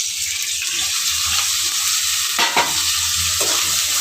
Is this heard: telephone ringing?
no